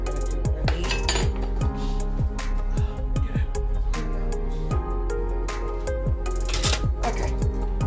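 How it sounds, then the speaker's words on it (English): A whisk rapidly beating homemade vinaigrette in a bowl, steady rhythmic clinking and tapping against the sides, close and continuous throughout. "So we're just going to whisk this together like so, get it very well combined."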